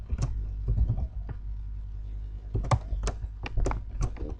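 Scattered keystrokes on a computer keyboard while HTML code is typed, close and fairly quiet, with irregular clusters of clicks and brief gaps.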